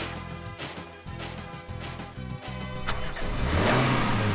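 A car engine revving in a steady run of repeated throttle bursts that builds toward a louder, rougher roar near the end, with no voices.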